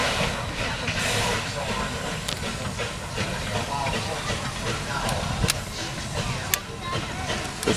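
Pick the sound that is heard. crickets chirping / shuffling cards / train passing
train passing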